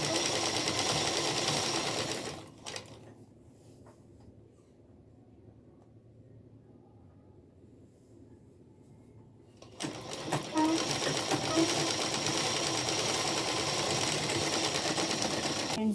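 Sewing machine stitching a salwar, running steadily for about two seconds, pausing, then resuming for the last six seconds at close range, with a quiet lull in between.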